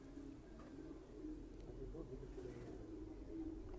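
An English pigeon coos in soft, repeated low throaty phrases, close by and fairly quiet, with faint background noise and a voice speaking nearby.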